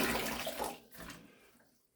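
A new sponge soaked in a bucket of water for wet-sanding drywall gives a close, splashy wash of water for about a second that then fades into quieter sloshing.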